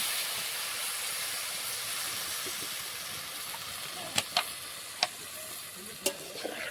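Water goes into a hot pan of fish curry with potato and plantain, raising a steady close hiss of steam and sizzle, followed by a few sharp clicks of utensils.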